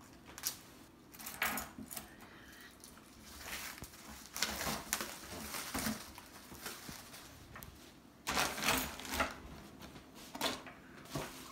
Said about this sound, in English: Trusty scissors to open the board.